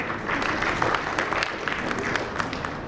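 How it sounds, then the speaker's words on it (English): Brief burst of audience applause at a corporate marketing presentation as a bank executive comes on stage, a dense crowd of clapping hands at steady loudness for a few seconds. "A huge round of applause for him."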